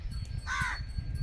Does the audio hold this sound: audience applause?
no